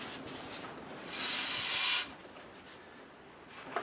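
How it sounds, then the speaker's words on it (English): A truck wheel on a 2004 GMC Sierra 1500 spins freely after a brake change, making a soft whirring rub that swells for about a second and then fades back to a faint background hum. "Wheel spins good"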